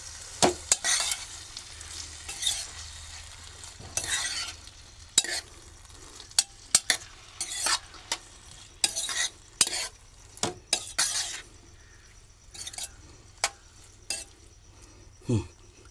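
Food sautés in hot oil in a pan while a utensil stirs it, giving bursts of scraping and clattering against a steady low sizzle, close and fairly quiet, with no talk.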